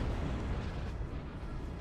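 Cannon artillery fire in the Empire: Total War strategy game, a dense continuous rumble of booming blasts and explosions with no distinct gaps, loud and steady throughout.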